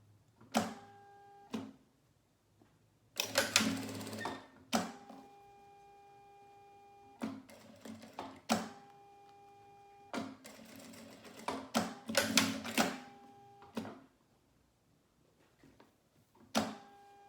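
Sewing machine stitching fabric while sewing a small manicure nail-polish pouch: loud rapid whirring bursts of stitching, several short runs and a few longer ones, separated by pauses with a steady faint motor hum.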